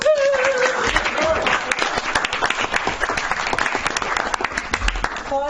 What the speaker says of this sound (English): Applause from the back room.